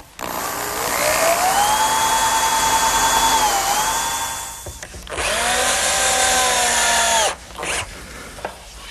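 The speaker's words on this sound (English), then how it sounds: "what I'll do is pre-drill and then attach the leg with drywall screws." Power drill pre-drilling and then driving drywall screws into a wooden picnic table leg: two sustained whining motor runs that rise in pitch, each lasting a few seconds, close and loud, with a short pause between and no talk.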